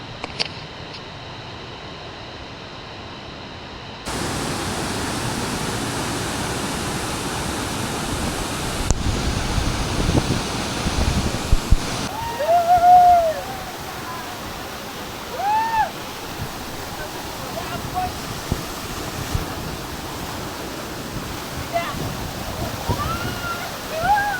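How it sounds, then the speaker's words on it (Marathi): Savatkada waterfall in Konkan roars as a constant broad rush of falling water, with scattered faint voices and a few whistle-like calls riding over it. "हे बघा आमच्या गावातलं स्वर्ग आमचा सवतकडा धबधबा हाय"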